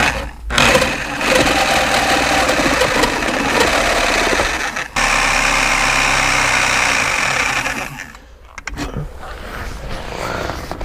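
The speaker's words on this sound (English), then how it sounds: "Only one way to find out, and that's with a Sawzall and get to cutting" A Sawzall reciprocating saw cuts through the stereo bracket of a C5 Corvette, a loud, steady buzzing rasp that runs nearly ten seconds, breaks briefly midway, then stops abruptly near the end, leaving a few fainter scrapes.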